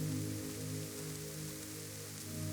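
Soft, even rain falling as a continuous hush, low and gentle with no distinct drops standing out, steady from start to finish.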